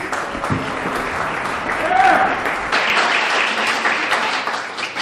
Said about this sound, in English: please welcome Steve Friedman with a nice round of applause